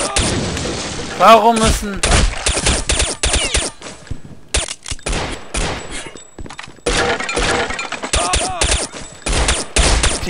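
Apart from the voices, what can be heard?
gunfire in the video game Counter-Strike Condition Zero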